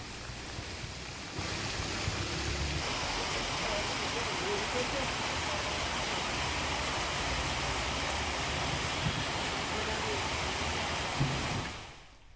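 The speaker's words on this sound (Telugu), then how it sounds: "మారేడుపల్లి కంటోన్మెంట్ తదితర ప్రాంతాలలో భారీగా వర్షం కురుస్తోంది" Heavy rain falling in the Marredpally Cantonment area of Secunderabad, Hyderabad, a dense, steady roar of broadband noise that holds at even loudness throughout before fading at the very end.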